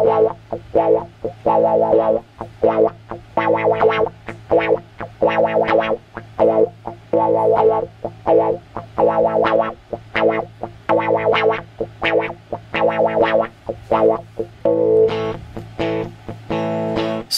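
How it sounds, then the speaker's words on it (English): Electric guitar run through an Axe-Fx III with a wah whose sweep is driven by an LFO, played as rhythmic distorted chords that pulse and swell from a dark low wah to a bright high wah, loud and alone. "as I move the pedal up, it'll just go from a low wah sound to a higher frequency wah sound."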